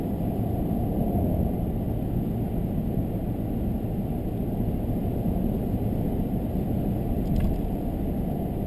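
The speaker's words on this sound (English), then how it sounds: "There, downshifted." A 2017 Ford F-250 with the 6.7 engine towing 12,000 lbs down a slope, its steady drone and road roar continuous and loud throughout, with a faint brief shift change near the end.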